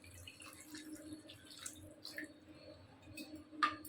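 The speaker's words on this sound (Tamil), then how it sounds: "கொஞ்சம் கொஞ்சமாக தண்ணி விட்டு நல்லா கிண்டி விடுங்க" Water goes little by little into a cooking pan of drumstick kara kuzhambu, a quiet trickling and dripping with faint stirring and one sharper splash near the end.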